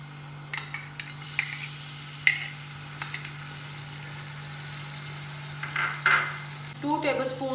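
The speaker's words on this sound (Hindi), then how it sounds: "उसमें ये मैं 2 टेबलस्पून भर के जो है ना लहसुन जो मैंने चॉप किया हुआ है वो डालूंगी" Two tablespoons of chopped garlic sizzle gently in hot oil for dhaba-style daal mash fry while a utensil stirs and clinks against the pan now and then.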